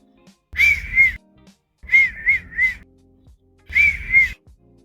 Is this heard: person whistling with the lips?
yes